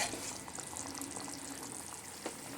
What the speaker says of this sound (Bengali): খুব ভালো করে নেড়ে চেড়ে আলু আর বেগুন একই সঙ্গে ফুটিয়ে নেব